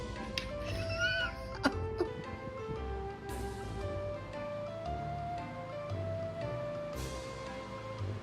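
A cat meows a few times, brief mid-pitched calls near the start of a quiet indoor scene with other soft household sounds.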